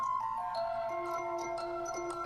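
A granulized intro loop for a drum and bass track: sustained, shimmering synthetic tones with shifting pitch layers and faint grainy flickers, steady and fairly quiet over a couple of seconds.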